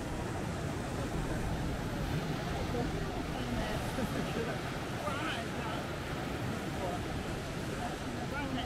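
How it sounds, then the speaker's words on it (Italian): Rough, agitated sea surging against the shore under an overcast sky, a dense continuous roar of breaking surf and wind noise hitting the microphone throughout. "Vediamo questo mare incazzato qua."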